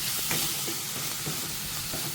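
Moringa leaves with turmeric and salt sauté in a pan at home, giving a steady close, loud frying hiss with faint stirring scrapes.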